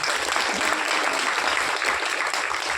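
A hall audience at a Tamil film audio launch breaks into steady, dense applause, loud and close throughout with no talking over it.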